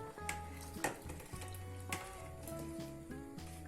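Ingredients for aşure roast in a pan, with a steady close-up sizzle and occasional scraping stir sounds over a background of faint music, without talk.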